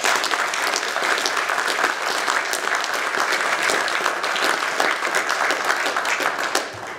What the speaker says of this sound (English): So I would just ask you if you will join me one more round of applause for everybody who has spoken so well.